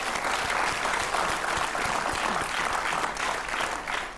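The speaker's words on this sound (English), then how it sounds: "give her a clap, because that's a good word" Studio audience of a television word game show clapping steadily, a dense, sustained wash of many hands, moderately loud and even throughout with no voices standing out.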